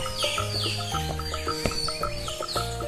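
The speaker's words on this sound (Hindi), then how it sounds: "रास्ते में पक्षियों की आवाजें आ रही थी" Birds chirping in a forest along a path, short bright tweets repeating over a looping backing melody, steady and moderately loud, with no talk.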